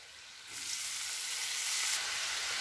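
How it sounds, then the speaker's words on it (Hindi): Fresh spinach lands in a hot pan of fried ginger and green chili with turmeric, and a loud, steady sizzle rises and holds without talk. "और अब हम इसमें डाल देंगे ये पालक"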